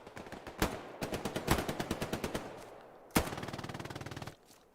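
Machine gun fire in the World War II video game Hell Let Loose rattles out in two long rapid bursts of evenly spaced shots, a nearby, loud staccato with a brief pause between the bursts.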